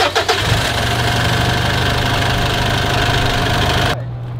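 A Mitsubishi vehicle's engine runs at a steady, loud idle with a dense rumble and a few knocks at the start, then its higher tone drops away abruptly near the end; no one speaks.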